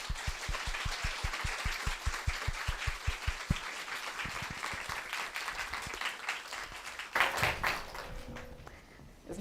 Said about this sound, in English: give Lex and Anahit a big hand of applause